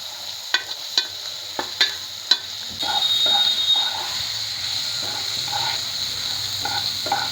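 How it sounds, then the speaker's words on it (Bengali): Garlic and onion hit hot oil with potatoes, crackling and sizzling steadily in the pan after a few sharp clinks of a spoon against the vessel, close and moderately loud with no talk. "এবার একটু রসুন ফোড়ন দিয়ে দিলাম, একটু পেঁয়াজ দিলাম, দিয়ে আবার একটু আলুর সঙ্গে এটা কষিয়ে নেব।"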